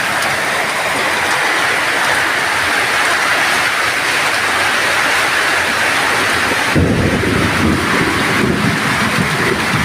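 Loud, continuous rain roars while a deep thunder rumble swells and rolls in partway through.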